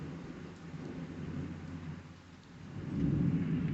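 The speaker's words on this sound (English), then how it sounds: "love the sound of the rain" Steady rain falls through a thunderstorm under a tornado watch, a dense continuous wash with low rumbling thunder swelling louder near the end.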